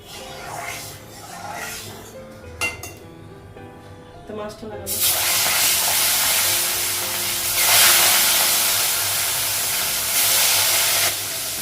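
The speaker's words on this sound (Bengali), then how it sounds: "কড়াইটা গরম হয়ে গেছে তেলটা দিয়ে" Kitchen clatter and a brief voice give way to a sudden loud hiss as oil hits a hot wok, sizzling steadily to the end.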